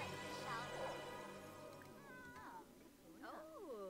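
A cat in The Sims 4 meows several times, with drawn-out, wavering cries near the end, over soft background game sound.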